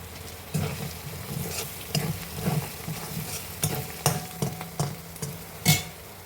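Ginger garlic paste with turmeric sizzles as it fries in a pan, while a spoon stirs and scrapes in repeated taps and swishes over a steady background hiss.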